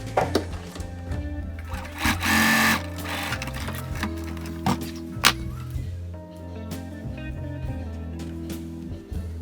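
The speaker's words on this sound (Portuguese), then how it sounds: "Eu vou puxar a máquina, numa já fiz e na outra vou passar a costura" Sewing machine running a seam on fabric, a close, steady mechanical whir with rhythmic needle clatter and a few pitch changes as it speeds up and slows, with no talking.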